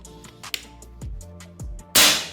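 A single loud, sharp crack from a Predator Dr.Q air rifle with a full CNC barrel, fired indoors at close range. A few quiet clicks and handling thumps come before the shot.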